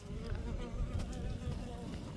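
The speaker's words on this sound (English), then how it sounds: "I see the bottom hole and the bees have moved in" Bees buzz in a steady, faint, droning hum around a siris plant pot, heard close up, with soft background noise.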